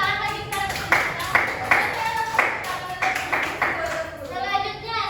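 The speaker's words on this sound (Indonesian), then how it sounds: "Beri tepuk tangan lagi kepada kita." A group, apparently children in a classroom, claps hands in a rhythmic patterned sequence of loud claps, with voices, including children's, heard alongside.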